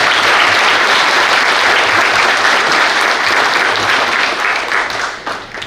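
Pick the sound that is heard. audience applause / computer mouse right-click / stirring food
audience applause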